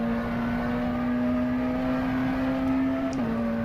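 A McLaren Senna hypercar driven in the rFactor 2 racing simulator at Le Mans holds a steady, even engine drone at near-constant revs, close and unbroken, with no talking.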